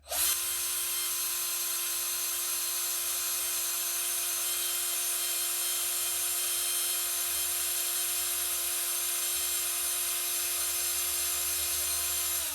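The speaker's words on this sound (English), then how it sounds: "if you're using the drill rather than one of the hand crank drills, it takes a little bit of practice to not just go crazy" A power drill spins steadily to twist fiber into cord, holding a constant whirring motor hum with a high whine for over twelve seconds, close and loud, with no talk.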